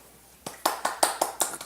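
Light hand clapping from a small group at a Korean podcast recording, a short run of six or seven evenly spaced claps that starts after a quiet pause.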